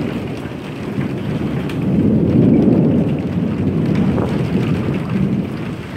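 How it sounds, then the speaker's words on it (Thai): Heavy rain pours steadily during a May thunderstorm with lightning while the sun still shows through, and low thunder rolls swell and fade beneath the dense hiss of rain. No voices are heard. "แต่ว่าฝนฟ้าคะนองครับ มีฟ้าผ่าด้วย"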